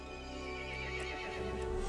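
A single drawn-out horse whinny in Resident Evil Village rises and falls over a steady low hum, fairly close and moderately loud.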